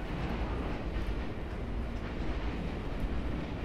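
A train rattles along in the video game Condemned: Criminal Origins, a steady, dense rumbling roar that stays loud and unbroken throughout.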